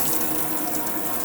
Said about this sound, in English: open all the taps up on the hot side of the water system